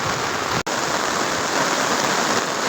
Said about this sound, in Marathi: पाऊस लई मोठा येत आहे आमच्या इकडं